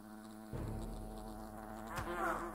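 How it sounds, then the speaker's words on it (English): Large wasps swarm a picnic area in the video game Fable: The Lost Chapters, a faint continuous insect drone with wavering buzzing tones over soft game ambience, rising slightly toward the end. "Kill all the wasps in the picnic area?"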